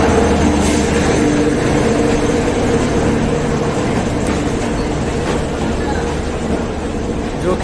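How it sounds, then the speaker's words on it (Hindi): The Rajendra Nagar Howrah Express passes by on Indian rails, a loud, continuous rumble of wheels and carriages close at hand that holds steady throughout. "और वो साइड में आई है राजेंद्र नगर हावड़ा, हावड़ा एक्सप्रेस।"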